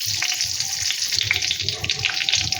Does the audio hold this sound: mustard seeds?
yes